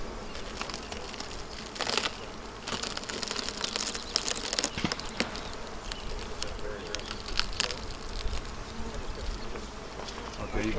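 A dense, continuous buzz of many honeybees working combs in an outdoor hive close by, steady throughout with faint crackling and rustling underneath.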